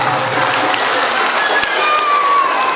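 Brief applause from an audience, many of them children, during an Isra Mi'raj sermon, a loud even burst of clapping with faint crowd murmur beneath.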